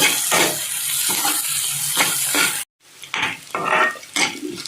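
Onions frying in a pan on the side while a vegetarian banana fish curry is cooked, a continuous hissing sizzle broken by stirring scrapes and a brief gap, close and fairly loud, with no talk.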